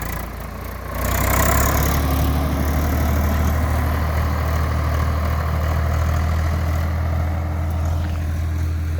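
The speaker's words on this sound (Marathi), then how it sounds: "तर भाई आता ट्रॅक्टर निघालं." A farm tractor starts moving off, hauling cotton to market, its heavy diesel engine a loud, steady low rumble that rises after the first second and holds close and continuous throughout.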